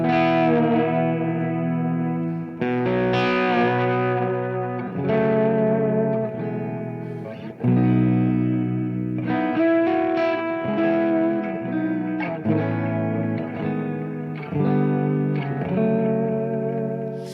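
Electric guitar fitted with a Grissom tremolo, playing a steady run of sustained, effected notes with a gentle pitch wobble, alone and fairly loud throughout.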